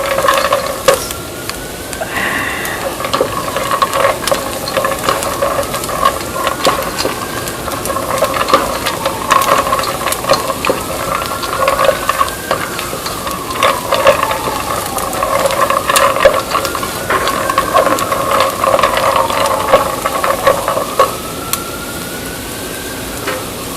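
Pasta frying and stirred in a single pot, risotto-style, giving a continuous loud sizzle and hiss with scraping stir strokes running steadily through, and no voices.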